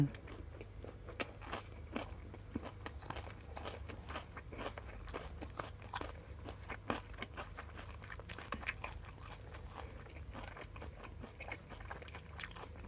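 Nem nueang rolls with peanut dipping sauce are eaten up close, with soft bites, chewing and small crunchy crackles repeating quietly and irregularly throughout.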